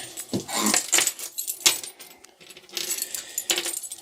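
Two sets of keys on key rings jangle and clink close by in a travel trailer, with bright metallic rattles coming in uneven bursts and brief pauses between them, and no talking.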